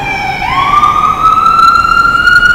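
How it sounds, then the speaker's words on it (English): An emergency vehicle siren wails outside during a church sermon, one loud, close tone that climbs sharply and then holds a long rising wail, with no talk over it. "The sirens are a perfect soundtrack to what I'm trying to say."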